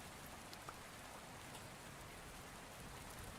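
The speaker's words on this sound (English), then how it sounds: "If the rain noise is too loud, make sure to tell me." Steady rain falls in Minecraft Beta 1.7.3 as a constant, even hiss of raindrops with no pauses, moderately loud and filling the whole stretch, with no voices over it.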